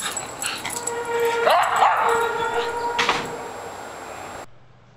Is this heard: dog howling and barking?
yes